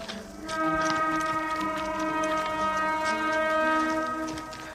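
Train horn sounding with a sustained, loud, steady tone over rumbling rail noise, heard in a rural village setting for several seconds as a train approaches a crossing.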